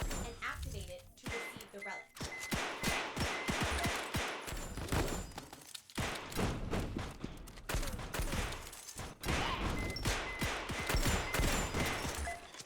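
A player's mech fires rapid gunfire in the animal-warrior bullet-hell game Furball Blitz: dense, continuous bursts of shots with thuds and game effects, fairly quiet overall.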